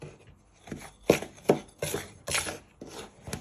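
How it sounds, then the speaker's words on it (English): A knife stirring and scraping through dry cocoa powder, baking powder, self-raising flour and sugar in a bowl, five or six soft scraping strokes in an uneven rhythm, close and fairly quiet. "you just want to mix all that in using your knife"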